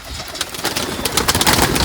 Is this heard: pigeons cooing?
yes